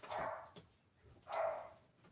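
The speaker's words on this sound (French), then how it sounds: "vous devez entendre mon chien derrière" A dog somewhere behind the room gives two muffled barks about a second apart, faint and indoors.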